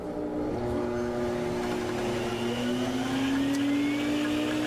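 A Sirena water-filtration vacuum cleaner runs steadily up close with a loud continuous whine and airflow roar, its pitch rising slightly as the motor spins up.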